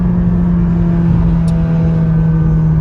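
A McLaren 570GT, the 562-horsepower GT model, accelerating from inside the cabin, its engine a steady, loud droning rumble with a sustained low tone that holds throughout.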